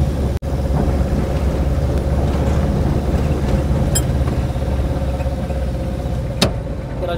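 A tempo goods vehicle's engine drones steadily while driving, a continuous low rumble that stays close and loud throughout, with a brief sharp knock near the start.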